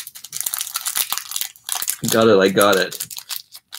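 Plastic packaging of a Zuru 5 Surprise Mini Brands toy crinkles and rustles in short, close bursts as it is cut open with scissors, with a voice speaking briefly in the middle.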